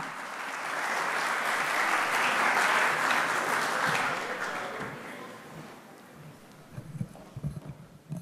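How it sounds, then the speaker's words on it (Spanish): A seated audience gives a welcoming round of applause, a dense wash of clapping that swells, holds, then thins into scattered claps as the crowd settles. "Recibimos con un fuerte aplauso al ingeniero Jamshid Armagani"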